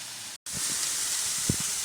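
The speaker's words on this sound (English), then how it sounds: "Got the chicken cooking, 1 cal spray, seasoned it with salt, basil and paprika." Chicken fries in a pan with low-calorie cooking spray and salt, basil and paprika, giving a steady broad hiss and sizzle after a momentary break, with a couple of faint low knocks. No voices.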